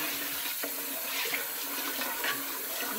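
Rice being rinsed in a sink under a running tap, a steady broad rush of flowing water with faint swishing and splashing of grains, close and continuous, no voices.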